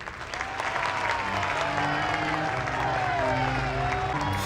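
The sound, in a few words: crowd applauding in TV show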